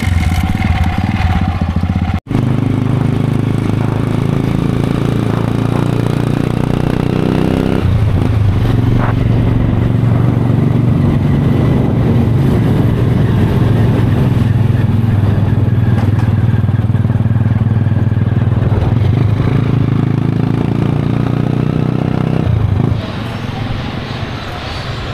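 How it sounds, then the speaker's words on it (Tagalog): A classic motorcycle ridden on Cuyo Island, Palawan, with a steady loud engine drone and rushing wind throughout, briefly cut off early on, while a rider talks over it. "May experience natin na sumakay dito sa motorsiklo na classical na to"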